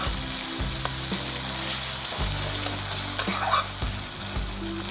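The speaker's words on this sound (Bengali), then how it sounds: "এইভাবে পেঁয়াজটাকে 3-4 মিনিট ধরে হালকা গোল্ডেন করে ফ্রাই করে নিতে হবে" Onions fry in a hot pan with a pinch of salt and sugar, producing a loud, continuous close sizzle broken by several stirring scrapes, with no voices.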